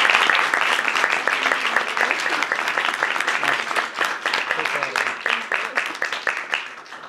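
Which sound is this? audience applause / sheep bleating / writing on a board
audience applause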